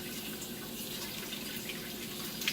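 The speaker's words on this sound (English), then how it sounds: "So right now I'm just rinsing with lukewarm water." Lukewarm running water from a tap rinses milking equipment parts, including a lid, a steady close splashing hiss with small drips and clinks, no talk.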